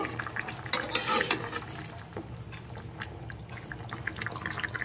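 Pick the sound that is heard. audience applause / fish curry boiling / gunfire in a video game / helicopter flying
fish curry boiling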